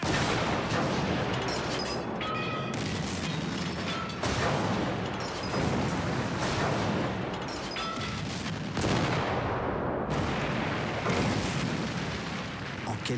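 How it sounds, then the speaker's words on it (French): An artillery bombardment of shells at Verdun rolls on as a continuous dense roar of blasts and rumbling detonations, loud and unbroken, with sharper impacts cutting through now and then. "En quelques heures, 1 million d'obus s'abattent sur les positions françaises."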